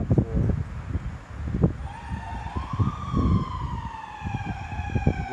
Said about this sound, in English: That's probably a cop car. Yeah, that's a police car.